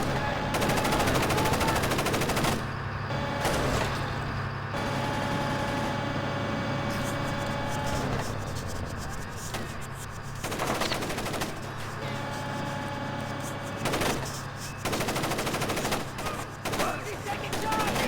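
Automatic gunfire in the 2005 stealth game Splinter Cell: Chaos Theory, with repeated bursts and sharp shots over a droning background, loud early and recurring through the stretch, with some game voices in between.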